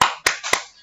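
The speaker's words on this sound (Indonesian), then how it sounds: "Tepuk apa kabar?" Kindergarten teachers doing a rhythmic greeting clap, three crisp hand claps in quick succession, close and clear with nothing else heard.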